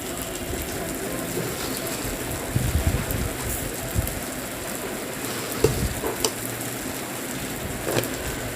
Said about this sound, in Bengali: ভালো করে মশলাগুলোকে কষিয়ে নিলাম তেল ছেড়ে এসছে